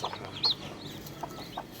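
Free-range village chickens cluck quietly at a distance, with a few faint high chirps scattered over a low background hiss.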